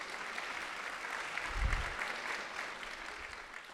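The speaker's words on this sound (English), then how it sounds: "Round of applause again." Dense applause from an audience at a university school anniversary celebration, continuous and moderately loud, with a brief low thump near the middle as the clapping carries on evenly.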